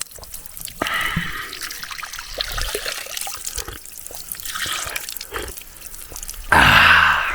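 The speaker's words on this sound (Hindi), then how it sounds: "ये भाई बहता हुआ पानी है" A mountain spring stream in a hill village, water trickling and splashing close by with irregular drips and gurgles, rising to a loud rushing burst near the end.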